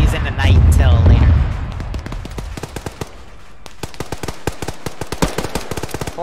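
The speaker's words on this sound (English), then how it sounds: "Looks like that's the Apache firing, but it's just short of that position" An Apache helicopter's gun fires in a military video game, rapid bursts of distant cracking shots continuing for several seconds after someone talks briefly at the start.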